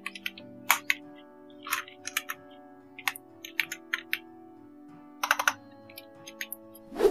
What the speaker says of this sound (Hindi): यहाँ पर आपको टाइप करना होगा स्लाइड टू